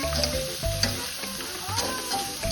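Vegetables for pancit canton sauté in a hot pan with steady sizzling, broken by clattering spatula stirs and brief louder scrapes throughout.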